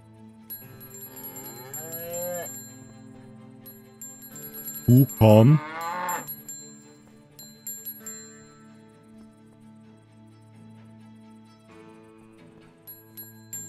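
Cow mooing in the western survival game Above Snakes: one loud, drawn-out low moo stands out over steady game music, with a voice calling to it sparsely before and after.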